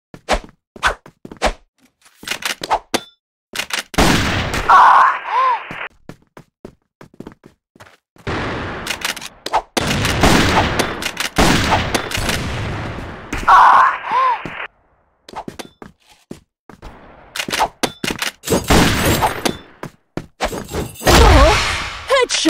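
Sniper rifle fire from an M700 in the online shooter CrossFire: a few sharp, loud single cracks spaced several seconds apart, with clicks and handling noises between them.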